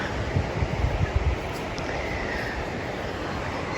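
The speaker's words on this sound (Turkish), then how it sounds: "Şu an derenin sesi çok güzel geliyor arkadaşlar." A flowing creek running between stones and garden plots, a broad, steady rushing wash of water close by, with some low rumbling bursts early on from wind on the microphone.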